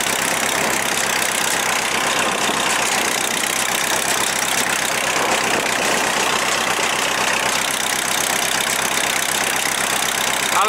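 Old rebuilt Deutz tractor engine running, a continuous loud rattling, knocking mechanical clatter with a dense hiss, steady throughout with no speech.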